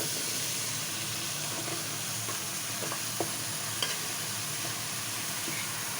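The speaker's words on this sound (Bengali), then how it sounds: "এখন ঢেলে দেব লাউ।" Bottle gourd stirred through prawn masala in a pan hisses with a steady, even sizzle, punctuated by a few soft scrapes and taps of the spoon, with no voices.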